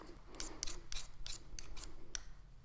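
A pencil grinds in a pencil sharpener, a close, quiet run of short rasping strokes in an uneven rhythm, about eight bursts with brief pauses between them.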